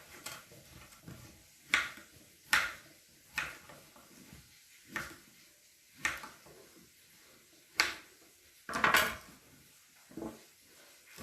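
A knife chops a young black pumpkin, skin still on, into large pieces for a fish curry, giving about a dozen sharp, separate knocks against the board spaced a second or so apart.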